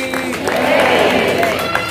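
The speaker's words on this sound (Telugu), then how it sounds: "అందుకోసం ఒక్కసారి అందరి చప్పట్లతో హర్షధ్వానాలతో వెంకటేశ భగవానికి" A temple crowd applauding and cheering for Lord Venkateswara during a homam ceremony, a short swell of clapping and voices under a speaker's amplified talk.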